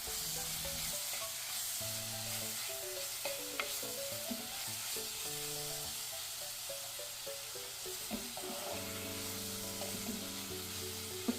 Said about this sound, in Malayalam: തക്കാളി ഒന്ന് നന്നായി സോഫ്റ്റ് ആവുന്നവരെ ഇത് നമുക്ക് വഴറ്റിയെടുക്കാം.